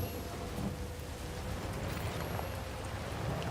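Rain falling in a video game, a steady soft hiss of rainfall with a faint low rumble underneath, with no voices.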